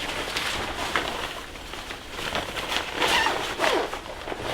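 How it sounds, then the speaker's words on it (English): Several short raspy zips come in quick bursts, close by, amid light rustling of fabric and gear. "Zipper up,"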